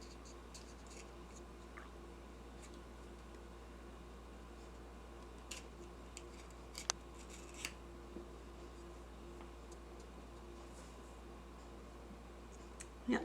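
Scissors cut open ball python eggs, producing a few faint, sparse snips and small clicks over a quiet, steady background hum, with no talking.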